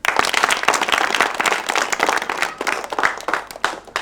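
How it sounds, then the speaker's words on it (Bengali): Applause from a seated gathering after a wedding date is fixed at a village marriage meeting, dense and steady clapping filling the whole stretch at close range with no talk over it. "আপনার হাততালি দেন।"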